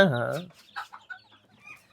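Decorative dwarf chickens and roosters on a small backyard farm in Kokand: a loud, close, drawn-out call opens, followed by scattered soft clucks and short calls.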